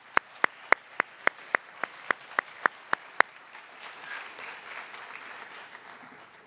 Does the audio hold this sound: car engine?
no